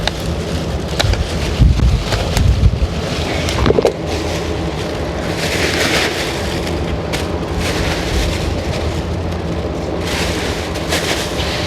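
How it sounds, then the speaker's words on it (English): Outdoor wind buffeting a microphone in a garden during a basil harvest, heavy low rumbling gusts that surge loudly in the first seconds and then settle into a steady roar, no talking. "it's a little windy today,"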